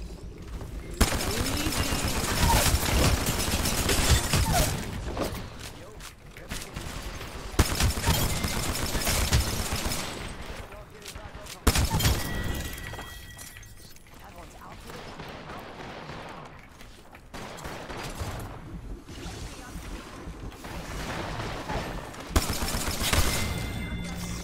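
Akimbo P2020 pistols fire rapidly in a video game, loud bursts of quick shots in several clusters separated by brief lulls, with a voice speaking in places.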